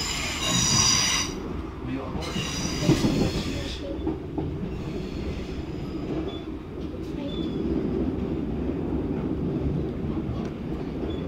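Wheels squeal inside a coupled Class 320 electric multiple unit running between Coatbridge Central and Hamilton Central, loud and close at first, then a steady rumble of the train in motion with faint intermittent squeals.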